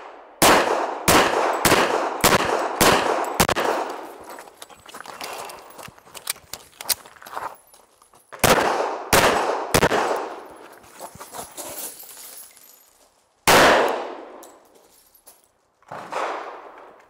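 A pistol fires at targets in quick strings of sharp, loud shots, five or six in rapid rhythm, then pauses and further bursts, with faint metallic clangs and ringing between groups.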